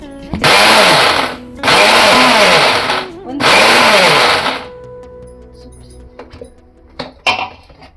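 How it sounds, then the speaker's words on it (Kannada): A kitchen mixer grinder blending garlic and bottle gourd for chutney runs in three short loud bursts of about a second each, whirring with a wobbling pitch, followed by small clicks and handling noises. "ಮಿಕ್ಸಿ ಅದೇ ಸಿಂಪಲ್, ತುಂಬ ಜಾಸ್ತಿ ಏನು ಮಿಕ್ಸಿ ಮಾಡೋದ್ವಲ್ಲ, ಸ್ವಲ್ಪನೇ ನೋಡಿ ತೋರಿಸ್ತೀನಿ ಹೇಗೆ ಮಾಡ್ತೀನಿ"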